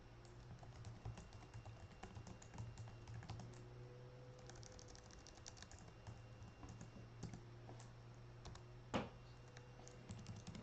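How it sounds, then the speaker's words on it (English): Quiet typing on a computer keyboard while writing code for a Unity game, irregular soft key clicks over a low electrical hum, with one sharper tap near the end. "I might want to have my hands on the keyboard"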